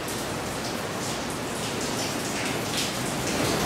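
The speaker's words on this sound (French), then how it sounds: "Il pleut." Steady, loud rain falling outdoors while hiking in Slovenia's Škocjan area, a continuous dense hiss of drops without pause or voices.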